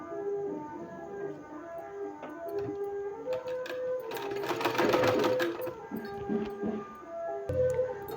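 A sewing machine stitches a folded one-inch fabric strip, its needle running in a fast steady chatter that swells louder midway, with a brief pause near the end before resuming.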